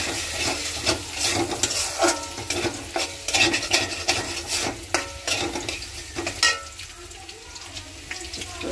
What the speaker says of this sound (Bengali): আমি মুরগির জন্য সব মশলা দিয়ে একবারে সব মশলা দিয়ে যাতে সুন্দর করে কষাই নিব